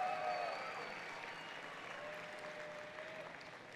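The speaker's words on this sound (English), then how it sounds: "Give yourselves a round of applause" An audience at an outdoor flame arrival ceremony for the 2019 National Senior Games gives a faint, distant round of applause, a soft steady patter of many hands.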